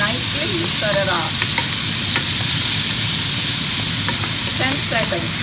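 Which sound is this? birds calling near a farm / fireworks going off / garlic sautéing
garlic sautéing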